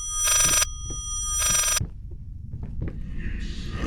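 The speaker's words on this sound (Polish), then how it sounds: "Telefon dzwoni? Ale oryginalny dzwonek?" An old-fashioned telephone bell rings twice in Layers of Fear, two loud metallic trills separated by a pause, followed by low thumping footsteps and faint ambient noise.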